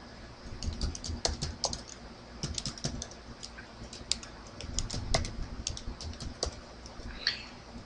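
Quick, irregular keystrokes on a computer keyboard as a command is entered on a Cisco network switch: a close, fairly quiet patter of key clicks with brief pauses and no talking.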